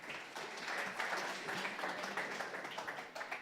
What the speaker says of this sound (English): Give a round of applause for Roland